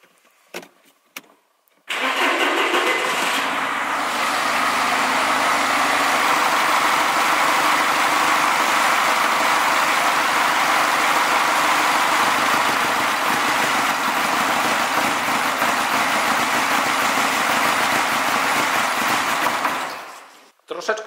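Car engine cranks and catches during an intake manifold cleaning, then idles loudly and close for about eighteen seconds as a dense, steady roar before cutting off.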